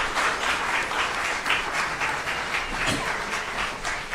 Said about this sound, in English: One more round of applause for the Oma Dragon Choir from Davidson.